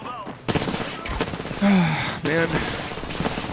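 Rapid gunfire in the battle-royale shooter Apex Legends during a tournament match, dense bursts cracking repeatedly over game effects while someone talks over it.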